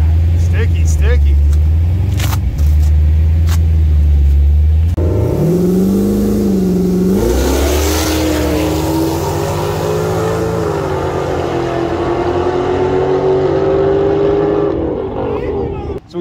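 A powerful twin-turbo Dodge Challenger street car revs and accelerates hard, rising in pitch with a loud, roaring exhaust and turbo whine, close by and sustained.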